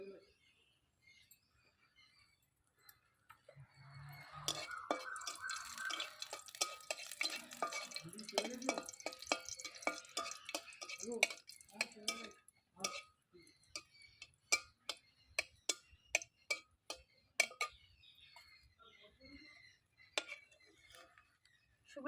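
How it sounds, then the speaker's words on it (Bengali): A dry red chili fries in hot oil for a Bengali fenugreek-greens dish, giving sharp, scattered pops and crackles that speed up and then thin out. A soft voice is heard early on. "তেলটা গরম হয়ে এসেছে ভেজে নেব একটা শুকনো লঙ্কা"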